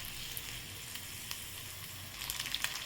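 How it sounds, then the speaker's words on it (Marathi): Bombil, Bombay duck fish, sizzles in hot oil in a pan, a steady close frying hiss with scattered crackles and pops growing a little busier toward the end, no voices. "यामध्ये बोंबील घालायचे आणि याला 1-2 मिनिटं फ्राय करून घ्यायचं।"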